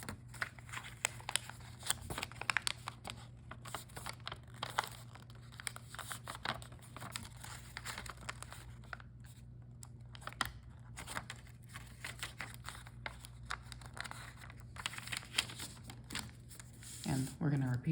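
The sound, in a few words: paper being folded into an origami mouse, inside reverse fold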